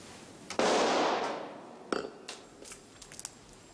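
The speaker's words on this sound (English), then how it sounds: "That was a gunshot, sir." A single gunshot goes off inside a dining room: one sharp, heavy report with a long fading tail, followed by a few faint knocks.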